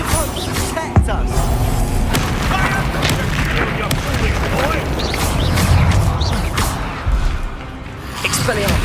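Bombarda blasting spell explosions and combat effects in Hogwarts Legacy, a loud dense mix of booms, crashes and whooshes with shouting voices mixed in throughout.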